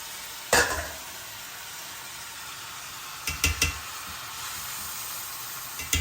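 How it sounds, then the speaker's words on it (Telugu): Broad bean seeds go into a hot pan for a garlic and chili tempering, giving a steady soft sizzle broken by a few sharp clinks and clatters of stirring. "చిక్కుడు గింజలు ఇందులో వేస్తాం."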